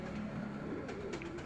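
Breeder pigeons coo softly at a home loft, low throaty calls rolling over faint background noise in a short, quiet stretch.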